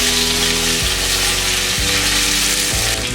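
Mustard seeds, fenugreek and curry leaves sizzle loudly in hot oil for a Kerala-style fish head curry, a dense steady crackle broken by a few sharp bursts as leaves hit the pan, close and with no voices.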